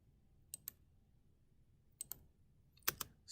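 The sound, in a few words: spacebar presses on a computer keyboard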